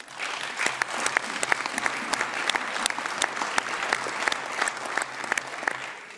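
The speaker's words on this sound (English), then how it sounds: "thank you for the applause" Applause from members in the European Parliament chamber, a dense, sustained clapping with sharp individual claps standing out, continuous and fairly loud throughout.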